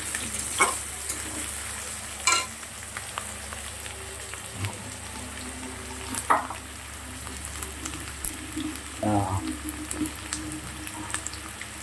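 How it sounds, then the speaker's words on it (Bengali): Vegetables are lightly fried in a pan for chowmein, with a low continuous sizzle broken by several separate sharp clatters and scrapes of a utensil against the pan. "সবজিগুলো আগে একটু ভেজে নেবো হালকা করে"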